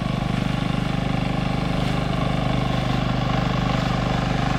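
A tractor engine runs steadily throughout a Konkan paddy field during rice planting, a constant low chugging drone with no change in pace, close by and loud.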